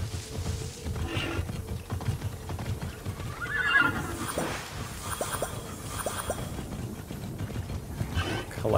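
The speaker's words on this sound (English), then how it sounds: "Straight summon a metal horse out of nowhere" Game audio from Immortals Fenyx Rising of a mechanical metal horse being summoned: a whinny rises mid-clip, followed by rhythmic clip-clopping hooves over a low ambient background.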